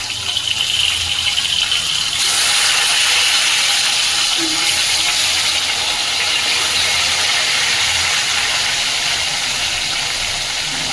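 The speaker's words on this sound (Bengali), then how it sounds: "এবার আমি মাছটা হালকার মধ্যে আমি ভেজে নেব" Hilsa fish fries lightly in oil, a continuous bright sizzling hiss that holds steady and fairly loud throughout.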